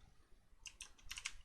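Keystrokes on a computer keyboard while entering an HTML tag, a quiet run of crisp clicks, sparse at first and then a quick irregular burst of several taps close together.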